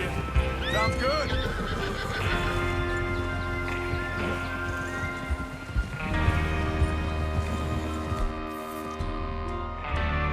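Horses in the Red Dead Redemption 2 video game, with hoofbeats, whinnies and neighs amid a dense, continuous game soundtrack with music and ambience; a voice briefly speaks.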